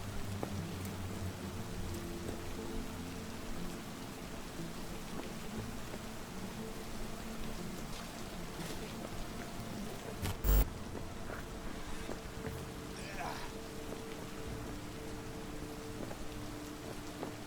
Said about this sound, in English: It's raining quite heavily, actually.